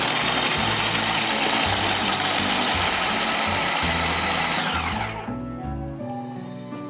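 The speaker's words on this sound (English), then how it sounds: "this is the carrots that I'm going to just put it in the food processor" A food processor chops carrots with a loud, steady whirring buzz that winds down and fades near the end, with no talking.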